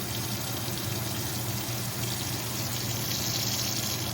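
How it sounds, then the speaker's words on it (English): Water pours steadily into a pot of beef noodle soup with noodles already added, a continuous close rushing splash that holds even for several seconds without talk. "I'm just gonna add a little more water."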